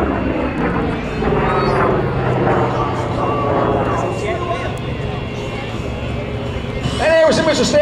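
An aircraft taxis past spectators at the Keesler airshow, its steady engine drone holding loud and close throughout, with crowd chatter mixed underneath and a brief swell near the end.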